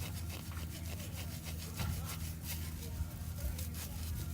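A brush scrubs wheel rims to lift iron deposits, giving a steady, close rasping rub in quick back-and-forth strokes.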